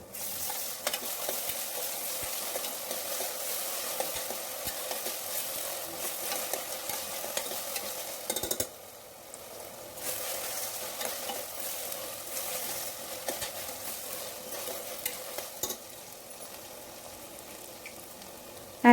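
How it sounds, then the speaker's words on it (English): Onions and ginger garlic paste fry in a little oil for crab fry, a steady close hiss of sizzling with soft scraping as the mixture is stirred, pausing briefly midway before continuing. "Add 2 spoons of ginger garlic paste and fry until the raw smell disappears"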